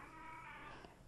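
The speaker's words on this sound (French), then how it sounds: "c'est mon chat" A house cat gives a single faint, drawn-out meow, quiet and somewhat distant against a low background.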